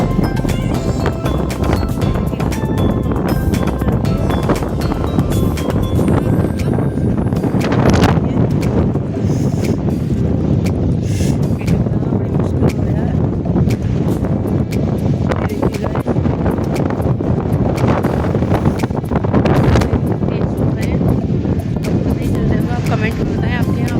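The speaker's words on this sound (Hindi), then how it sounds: "हमारे यहाँ हवा चल रही है" Gusty wind buffets the microphone outdoors, a constant roaring rush with stronger blasts every few seconds.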